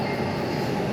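Bangkok Sky Train running, a steady close rumble and rolling roar of the rail car that holds constant throughout, with no distinct wheel clacks or voices.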